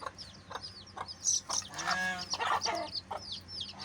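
Silver Sebright and golden fancy chickens cluck in agitation as a person approaches them in a natural outdoor setting, with a close flurry of overlapping clucks and squawks and one drawn-out rising call near the middle.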